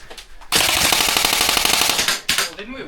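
Airsoft guns fire in a dense, loud burst of rapid shots at close range, sustained for about two seconds with a brief pause and another short volley, with faint voices before the shooting.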